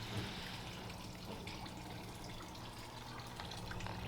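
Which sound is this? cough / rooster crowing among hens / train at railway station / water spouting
water spouting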